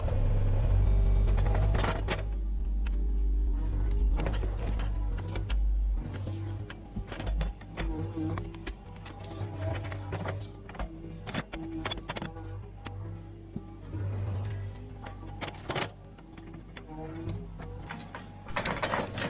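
Engine rumble from a mini excavator with constant loose rattling and frequent metallic clanks from a hydraulic cylinder, close by and fairly loud.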